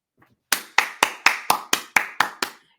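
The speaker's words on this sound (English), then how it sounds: "Do they really want to clap?" An audience claps in unison: nine sharp, evenly spaced, synchronized claps ring out loud and close, with no talking.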